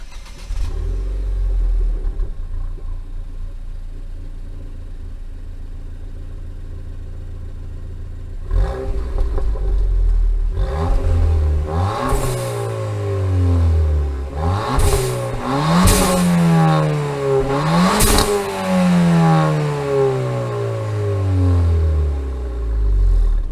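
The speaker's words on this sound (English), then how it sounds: "This is my new Megan Racing MGT muffler" Ford Fiesta engine fitted with a Megan Racing MGT muffler and resonator delete idles low, then revs up repeatedly in rising and falling sweeps, loud and close with a throaty exhaust note.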